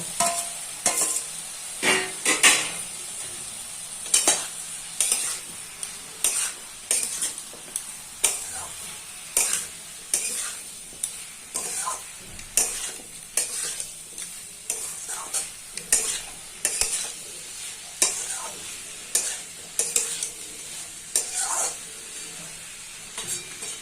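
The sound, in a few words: stirring prawns with water and green chillies in a pan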